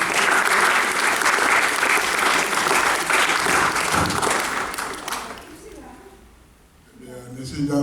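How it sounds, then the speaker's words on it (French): Audience applause after a speaker is introduced at an evening French-language show, loud and sustained for about five seconds, then fading away, with a voice starting up near the end. "que je vous demande d'applaudir"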